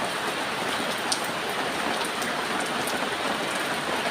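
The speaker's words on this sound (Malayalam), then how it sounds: "ഇന്ന് നല്ല മഴയാണ്." Heavy rain pouring steadily, a dense constant hiss of drops hitting surfaces with no pauses.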